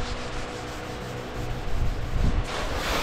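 Car paint on a 1960 Impala convertible is hand sanded with Sunmite 600 grit paper, a steady soft rubbing scrape that grows a little louder and coarser toward the end, heard alone.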